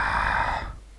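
A zombie in a comedy horror film lets out a rough, breathy groan, loud and close, swelling for about half a second before fading out, with no talk over it.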